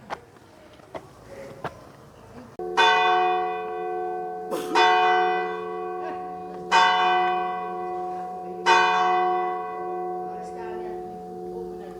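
A church bell in Napier, Western Cape, South Africa, rings out the hour at seven o'clock with loud, resonant strikes spaced about two seconds apart, each ringing long and sustained, while faint voices are heard before it starts.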